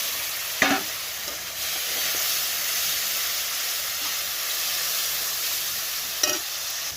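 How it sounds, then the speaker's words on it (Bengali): Grated tomato frying in a spiced masala with coriander powder, a steady hissing sizzle throughout with two sharp clanks of a utensil against the pan, close and fairly loud, no talking. "এবার আমি দিয়ে দেবো টমেটোটা যে গ্রেট করে রেখেছিলাম,"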